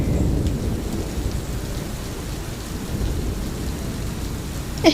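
Steady rain pours close by in a broad wash of noise, with low rumbles of thunder rolling underneath and a sharp knock near the end.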